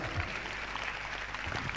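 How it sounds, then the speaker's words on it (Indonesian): Seminar audience applauding for young attendees in a business talk, a steady dense wash of many hands clapping throughout the short moment, moderately loud with no voice over it. "Tepuk tangan untuk Anda semua yang masih muda."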